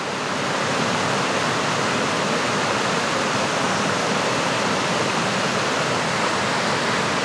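A waterfall roars steadily with a dense, unbroken hiss of rushing water, loud and close, without pause or variation.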